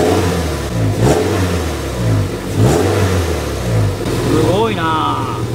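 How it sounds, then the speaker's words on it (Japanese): A six-speed sports car from a 100-unit limited run revs in repeated swells from idle, its engine note rising and falling several times up close while people chat nearby. "ちょっとあやちゃん、軽くさ、エンジンブンブンやってみて。"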